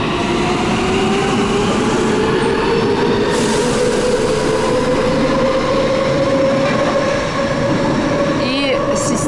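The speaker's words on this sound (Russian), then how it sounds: "слышала, как уходит метро." An Istanbul metro train pulls away from the station, its electric whine climbing steadily in pitch as it accelerates, over a constant loud rumble of wheels and rails, with a brief squeal near the end.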